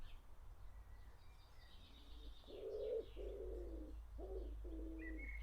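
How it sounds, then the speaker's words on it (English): Pigeons coo close by indoors, a few soft throaty phrases in a row, with faint chirps and a low steady hum underneath. "It is very thematic having the pigeons in here"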